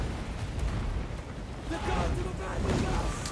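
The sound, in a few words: mortar bombardment in video game Total War: Warhammer 3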